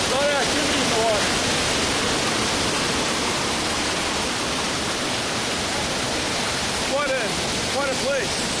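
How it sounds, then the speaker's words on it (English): Water thunders over the Rhine Falls in Switzerland, a dense, constant roar of turbulent falling water heard up close, with some wind buffeting the microphone. "There's a lot of water force coming through here."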